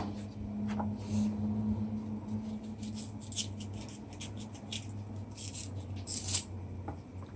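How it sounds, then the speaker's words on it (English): Ginger root being cut on a board, with soft, irregular knife scrapes and taps close by over a low steady hum. "I just want to cut the ginger"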